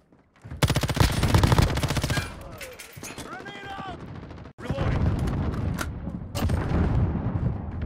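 A grenade goes off in the Call of Duty Modern Warfare beta amid rapid automatic gunfire; loud bursts of shots, a brief dip, then a heavy blast and more sustained firing.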